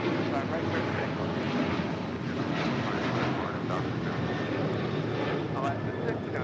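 An airliner takes off from runway 25 right at LAX, its engines a steady, heavy roar with wind buffeting, while a radio voice talks over it.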